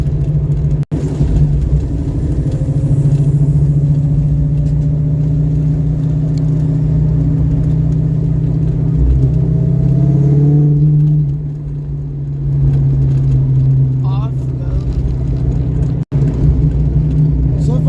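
A Ford Mustang fitted with a QFT Slayer 750 carburetor driving, its engine a steady loud low drone close by with a slight dip partway, occasionally stumbling at zero throttle, while someone talks over it.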